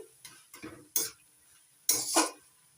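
A spoon stirs boiled potatoes and beans in a pot, producing several separate scraping clatters against the metal spaced across a short stretch, close and distinct with quiet pauses between them.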